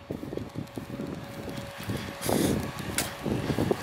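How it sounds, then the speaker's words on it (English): Wind gusting into the microphone outdoors in a backyard where a BMX and mountain bike dirt jump line is being built, a steady low rumble that surges louder in buffeting bursts midway, with no talking. "Now I'm going to walk into the wind."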